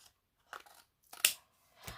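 Kitchen scissors snip through cardstock for a gift tag in a few short, crisp cuts close up, separated by quiet pauses.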